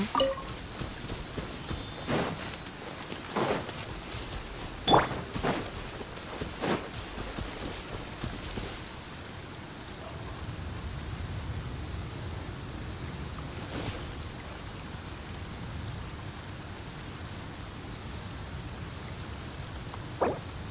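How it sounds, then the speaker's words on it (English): Steady rain falls in the video game Genshin Impact, a broad continuous hiss with occasional distant thunder-like rumbles and sharper drop impacts early on, growing denser and more even in the second half, no voices. "I don't see any reason to be excited about the rain"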